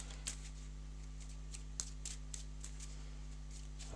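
Cards shuffled for a play test of the board game Realm of the Empress, a few soft, brief riffling snaps over a steady low hum, quiet and close.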